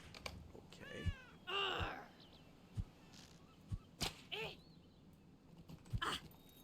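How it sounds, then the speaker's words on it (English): Cats meowing in a Gondor-themed video game, several short distinct meows spaced across a few seconds with soft thuds between, fairly quiet and clear. "Oh, we gotta go feed the kitty cats."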